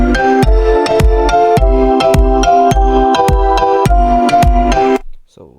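Drop of a tropical house track produced in FL Studio, with a steady four-on-the-floor kick, bright plucked chord stabs and a sharp hi-hat pattern repeating loud and close, then cutting off abruptly near the end.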